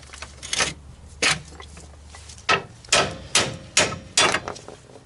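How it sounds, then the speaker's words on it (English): A hammer strikes a corroded front brake part on a Mitsubishi 3000GT VR4 during a brake conversion, delivering about seven sharp metallic blows, close and loud, with irregular spacing and growing quicker toward the end. "couple hits with a hammer, I'll be able to knock it out"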